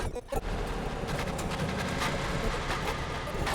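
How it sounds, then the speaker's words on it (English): Granulated wine glass sound in SuperCollider sent through a delay with feedback, a dense, loud, sustained smear of repeating echoes washing continuously without any pause. "the sound is delayed with feedback, and the effect fades out over about 5 seconds."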